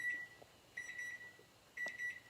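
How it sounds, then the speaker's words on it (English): Kitchen timer beeping while cranberry raspberry relish is made, three bursts of rapid high-pitched beeps separated by short pauses, fairly quiet with faint kitchen background. "The timer's gonna go off in a minute. See, there it went."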